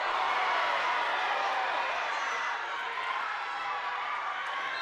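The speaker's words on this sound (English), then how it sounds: "I heard the reaction from the crowd" Crowd noise from spectators at a girls' varsity high school basketball game, a steady broad wash of voices and murmuring reaction that holds at even loudness throughout, with no clear cheering peaks.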